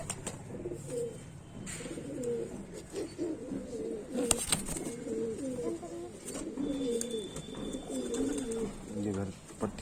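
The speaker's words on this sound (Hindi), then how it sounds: "आप यहाँ पर देख रहे हैं ज्यादातर जो कबूतर हैं सोनू भाई के सारे पर्दराज हैं" Kaldume and kalpare pigeons coo in low, throaty bursts through most of the stretch, with a few bird chirps and some background voices and rustling.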